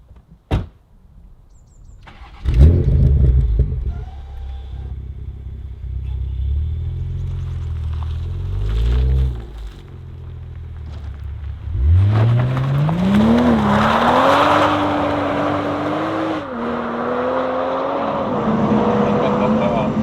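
BMW Z4 roadster starting up, with a sharp click and door thud, then the engine catches with a rumble and settles before revving and pulling away onto the road, moderately close.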